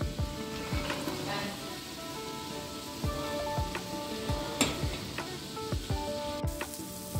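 Spices for chicken keema sizzle in a wok with a little water, a soft crackling hiss punctuated by repeated scraping strokes of stirring at an irregular rhythm, close by and without talk.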